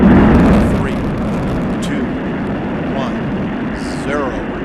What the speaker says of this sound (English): and liftoff of Space Shuttle Atlantis on a mission to build, resupply, and to do research on the International Space Station